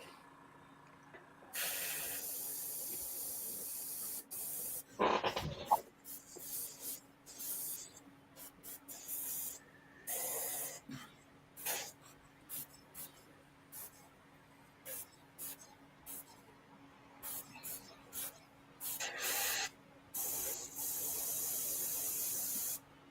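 An airbrush or spray can sprays black paint in short and long hissing bursts, close and soft, starting and stopping irregularly, with a couple of louder thumps partway through.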